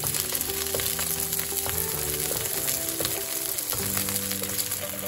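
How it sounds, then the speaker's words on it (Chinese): Clams with scallions and basil are stir-fried in a wok, giving a loud, continuous sizzle with soft stirring movements over background music. "翻炒一下"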